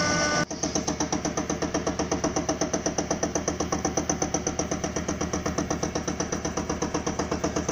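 A Sieg SC4 metal lathe cuts steel on very slow automatic feed, taking a 1 mm pass, with a steady, rapid mechanical ticking pulse and whirring motor hum that starts abruptly and runs evenly, close and continuous.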